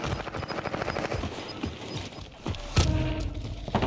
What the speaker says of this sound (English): He's just shooting him in the air.